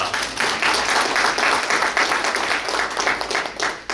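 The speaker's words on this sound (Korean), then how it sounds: "제14회 임종국상 시상식을 여러분들 큰 박수로 시작하도록 하겠습니다" An audience applauds at the opening of the 14th Im Jong-guk Award ceremony, a steady, dense wash of many hands clapping that holds for several seconds with slight swells and little else heard.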